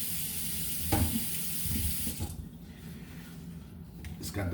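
A kitchen tap runs water into a sink while rice and beans are being cooked, a steady close splashing flow with a few brief clatters and a pause partway through.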